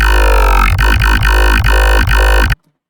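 Loud, gritty FM synth dubstep bass with a default sine shaper, made in Sytrus, throbs in a steady wobbling rhythm, with evenly spaced pulses, then stops abruptly into silence.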